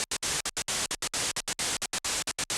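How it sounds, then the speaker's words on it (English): Bursts of hissing white noise chopped on and off by a sidechained gate in a quick, syncopated future garage rhythm of short and longer pulses, loud and alone. "which is just some white noise doing this pattern"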